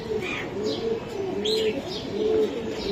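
Budapest racing pigeons coo in soft repeated low rolling calls, close by, with a few faint chirps mixed in over a light background hum.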